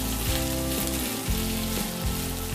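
Sliced onion sizzles in a pan with garlic while menudo is being cooked, a steady bright frying hiss, fairly close and loud, with no talking.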